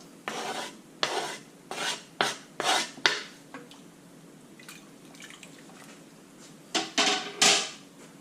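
Ingredients tumble into a pot for a potato stew, a series of short scraping, clattering bursts close by, then a quiet pause before a few more rasping spills near the end.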